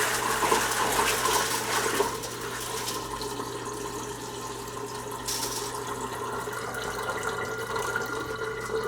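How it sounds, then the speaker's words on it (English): Tap water is dumped out of a container after a silver electrolytic cell run, a steady close pouring rush that eases slightly after a couple of seconds and continues to the end. "Alright, we'll dump this water out. This was just tap water."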